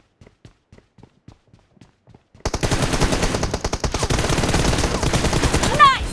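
Footsteps tap lightly in PUBG Mobile, then sudden loud automatic gunfire erupts in rapid continuous bursts that run to the end, with a short whine near the close.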